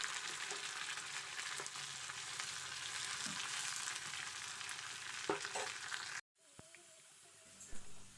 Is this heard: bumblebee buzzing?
no